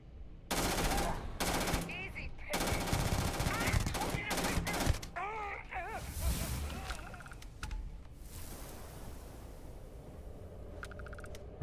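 Rapid-fire gunshots from a weapon in the Starfield video game come in dense bursts, loud and close, with short pauses between volleys and faint talk and key clicks mixed in.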